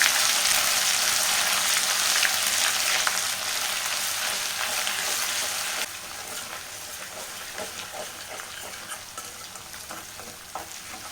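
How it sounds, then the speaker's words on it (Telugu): Ginger garlic paste fries with curry leaves in hot oil for a pond fish curry: a loud, close, hissing sizzle that eases partway through, with stirring clicks and scrapes, no voices. "ఇప్పుడు అల్లం వెల్లుల్లి పేస్ట్ని అయితే ఫ్రై చేసేద్దాం"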